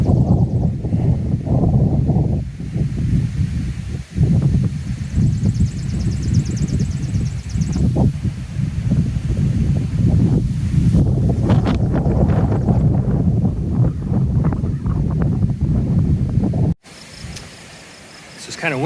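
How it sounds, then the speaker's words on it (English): Gusty wind on a hiking trail buffets the microphone in heavy rumbling bursts, with occasional thunder-like thumps, while insects chirp faintly in the background and a person talks over it. "That wind, it makes a percussion sound like thunder."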